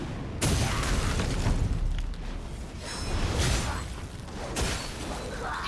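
A fire pot explodes in the video game Wuchang: Fallen Feathers, a loud sudden boom followed by rumbling, crackling bursts and further thumps across several seconds, with no talk.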